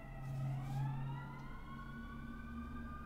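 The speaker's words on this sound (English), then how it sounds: "That's lots of police and ambulance thing." Police and ambulance sirens wail outside, their rising and falling tones layered and steady, heard faintly from a distance over a low background rumble.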